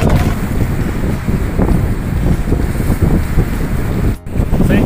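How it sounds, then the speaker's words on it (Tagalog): Strong wind roars steadily across the microphone, buffeting loudly throughout, with a brief dip near the end. "pati yung hangin maririnig nyo ngayon."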